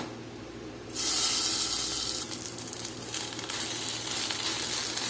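Oats chilla batter hits a hot wok and bursts into a loud hissing sizzle that settles to a steady, softer frying crackle.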